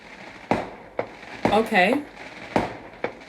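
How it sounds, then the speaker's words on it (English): Fireworks going off outdoors on New Year's Eve, a series of sharp, fairly loud bangs spaced about half a second to a second apart, with a short voice and some talk mixed in among the blasts. "people are shooting fireworks because it's New Year's Eve currently"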